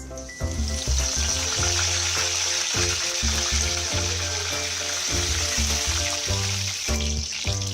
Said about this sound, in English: Once they begin to splutter, we will add few of the methi seeds.